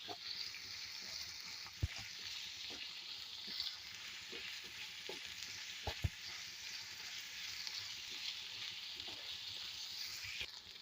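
Onions and green chilies sautéing in oil in a pan, giving a steady, faint sizzle throughout with occasional soft clicks from stirring.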